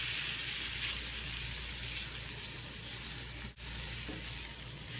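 Shrimp seasoned with paprika fry in a hot pan, giving a steady, close sizzle that holds for the whole stretch, broken by one brief dip near the end, with no one talking.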